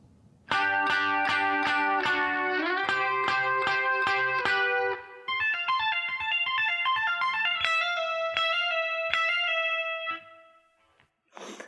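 Electric guitar tapping, played slowly with effects, a fast run of bright tapped notes moving up the neck, then a higher sustained passage that fades out, close and fairly loud with no talking.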